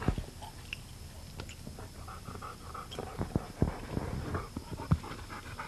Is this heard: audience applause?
no